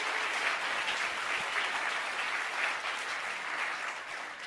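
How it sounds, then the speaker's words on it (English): Sustained audience applause filling a Clemson free-speech event hall with Jordan Peterson, Dave Rubin and Onkar Ghate, a steady dense wash of many hands clapping at even loudness throughout. "Give her a round of applause."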